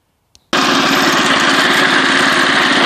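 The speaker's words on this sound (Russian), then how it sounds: "Вот я ее завел." A homemade walk-behind tractor lawn mower engine catches after a brief click and then runs loud and steady, a close, continuous buzzing drone with rapid rhythmic pulsing and no talk.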